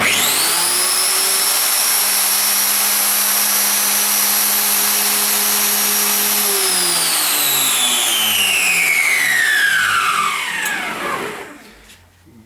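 An electric motor on a SHIJING 9033 automatic tile cutter drives the carriage with a loud steady whine, then the pitch slides down and the sound fades as the motor switches off and coasts to a stop.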